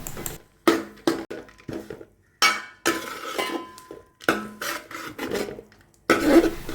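Spoon scraping and clinking in a pan while fenugreek, jaggery and grated coconut are stirred together for uluva vilayichathu, a series of close, uneven scrapes and knocks separated by short pauses.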